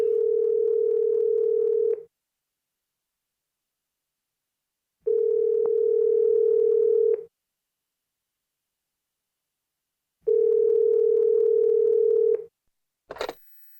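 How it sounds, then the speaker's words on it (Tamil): A telephone rings in three long, steady electronic bursts separated by pauses of silence, loud and close, followed by a short click. "உள்ள டெலிஃபோன் அடிக்குது, நான் கிளம்புறேம்மா."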